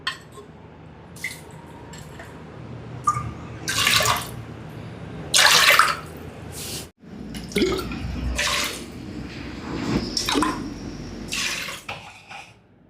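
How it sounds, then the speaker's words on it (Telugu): Water splashes and pours into a pressure cooker in several separate bursts, with short quiet gaps and faint drips in between; no one speaks. "1 కప్పుకు 2 కప్పులు చొప్పున 4 కప్పులు నీళ్లు పోసుకుందాం"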